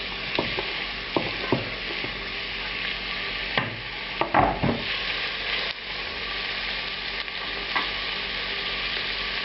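About 200 grams of onions fry in roughly 30 ml of oil in a hot pan for Russian chicken and pork meatballs, giving a steady, even sizzle broken by occasional stirring clatters. No voices are heard.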